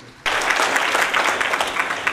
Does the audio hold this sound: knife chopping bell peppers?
no